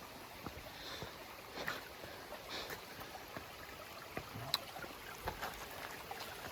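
Creek water runs steadily along a rocky stretch of the Vermont Long Trail where the stream serves as the path, a soft continuous trickle and burble heard fairly close, with faint scattered knocks and no talking.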